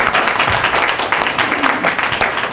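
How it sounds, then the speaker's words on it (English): An audience at a county Democratic Party political forum breaks into applause, dense and fairly loud clapping that holds steady throughout. "Judging by your applause"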